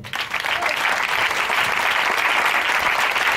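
A church congregation applauds to acclaim the Lord, a dense, steady wash of clapping from many hands that stays loud and even throughout, with a few faint voices mixed in.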